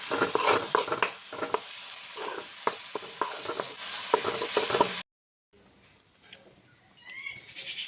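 Prawns roasting in a hot pan, with sizzling and scraping stirring strokes for about five seconds, then a brief silence and quieter clinks and sizzle.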